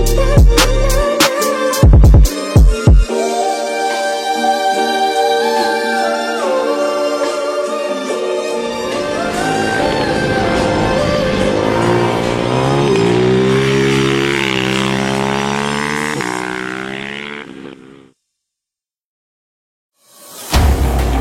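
A Ducati Hypermotard 698 single-cylinder motorcycle on a racetrack: a few sharp blips, then a loud rising rev that climbs and falls through the gears before cutting out, with a brief burst at the end.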